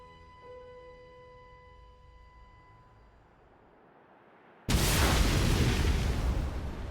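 A quiet held tone fades, then a sudden massive explosion erupts in a Xenoblade Chronicles 2 video game cutscene, its loud, broad roar sustaining to the end.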